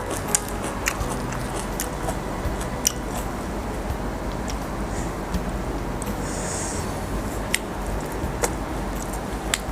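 Someone eats sticky rice with Lao eggplant soup, close and loud, with a dense, continuous mix of wet chewing, squishing and biting, plus scattered sharp ticks throughout.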